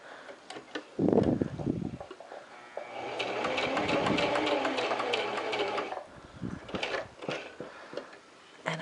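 A sewing machine stitches a sleeve into a garment in a steady whirring run of about three seconds, loud and close, with handling sounds of fabric before and after.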